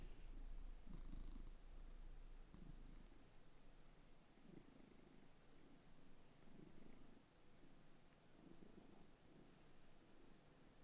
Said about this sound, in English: You having a purr?